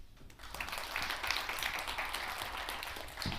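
An audience applauds to welcome Michele Wucker as the speaker at the 2017 World Knowledge Forum, a dense, steady wash of clapping from a large hall that holds fairly even throughout, with no talking.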